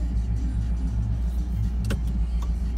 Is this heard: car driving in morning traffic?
yes